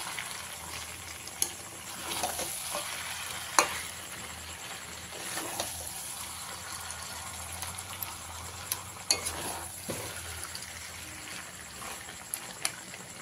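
A Bengali chicken and potato curry is mixed in a pan after the lid comes off: a soft, steady sizzle runs under occasional sharp scrapes and clinks of the spoon, fairly faint and close.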